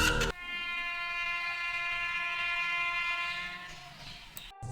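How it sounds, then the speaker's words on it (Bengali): A long, steady train horn blares loud and close for about four seconds, its stacked tones holding level before cutting off abruptly, used as a sound effect in a Bengali horror story. "হঠাৎ করে সে ট্রেনের হর্নের আওয়াজ শুনতে পায়।"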